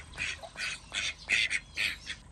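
Ducks swimming on water give a run of about six loud, nasal quacks in quick, uneven succession, close by with no talk.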